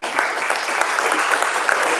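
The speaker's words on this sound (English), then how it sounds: "I thank you for the applause" An audience at a community recovery event applauds a speaker, with loud, sustained, even clapping that begins abruptly and fills the whole moment without any voices.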